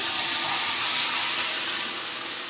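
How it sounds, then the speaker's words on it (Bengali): Loud, steady hissing sizzle of mourala fish frying in very hot oil, close and continuous with no voices. "তেলটা আমার খুব গরম হয়ে যাচ্ছে, এবার দিয়ে দিলাম এগুলো মাছগুলোকে।"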